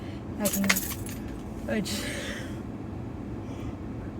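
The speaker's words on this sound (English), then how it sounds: "I just hit my car keys with my hand" Keys jangle and clink in a couple of brief bursts near the start, then fade into a soft background hum with faint breathy sounds.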